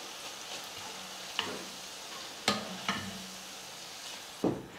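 Cauliflower pieces deep-frying in oil give a low, even sizzle, punctuated by several sharp clinks and scrapes of a utensil against the pan, with no one speaking.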